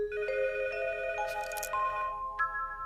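A telephone rings with a bright electronic melodic tone, a sequence of sustained pitched notes shifting step by step over about three seconds, clear and close with no talking.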